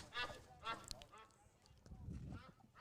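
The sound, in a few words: geese honking near baseball field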